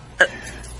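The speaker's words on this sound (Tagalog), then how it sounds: "Taod-taod naman na imong ubo, ma." A mother gives one brief, abrupt cough against a quiet indoor background.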